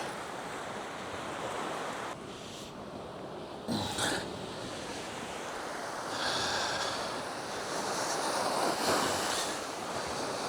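Waves wash and break against the shore in uneven surges, with gusts of wind buffeting the microphone throughout.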